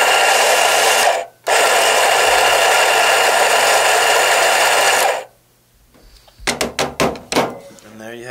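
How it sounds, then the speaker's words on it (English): A Pasquini K2 coffee grinder grinding beans: loud, steady whirring buzz from close by for about five seconds with a brief break near the start, then silence and a few rattling knocks and taps. "Thus grind your beans"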